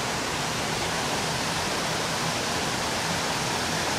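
Overflow water from a small river pours over a weir or dam in a steady, loud, dense roar that stays unbroken and close throughout, with no voices.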